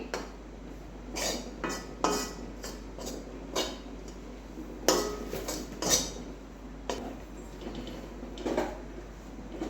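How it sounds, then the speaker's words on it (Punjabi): Besan roasting in ghee in a pan over a low flame, stirred with a metal spoon that gives repeated clinks and scrapes against the pan at an irregular rhythm, close and fairly quiet. "ਅਸੀਂ ਘੱਟ ਫਲੇਮ ਦੇ ਉੱਤੇ ਹੀ ਜਿਹੜਾ ਸੀ ਇਹਨੂੰ ਭੁੰਨਾਂਗੇ"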